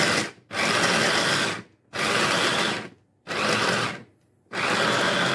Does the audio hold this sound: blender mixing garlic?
yes